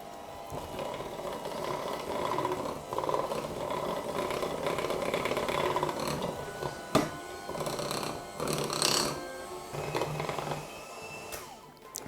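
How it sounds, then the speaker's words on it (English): An electric mixer whisks batter for Halloween cake pops, a low close motor whir running for several seconds before breaking into shorter uneven bursts and rattles. "So now I just need to whisk it all together and make a dough."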